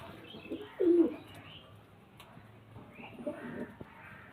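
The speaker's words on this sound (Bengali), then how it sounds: "এটা মাদা পায়রা" A domestic pigeon coos once, close and fairly soft, with a brief low burst near the start and fainter cooing and bird sounds later over quiet room background.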